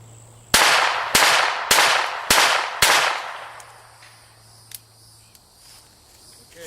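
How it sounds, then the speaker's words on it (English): Five unsuppressed .22LR subsonic rifle shots ring out loud and close in a steady rhythm about half a second apart, each a sharp crack with a short decaying tail, then quiet. "I'm going to fire off 5 rounds without it, and then I'll put the Spectre II Suppressor on it."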